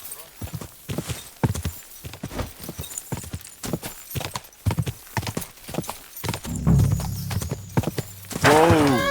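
Horse hooves clip-clopping in the video game Kingdom Come Deliverance II: a brisk, loud, continuous run of hoofbeats near the listener, with a snort and a whinny toward the end and a voice speaking briefly.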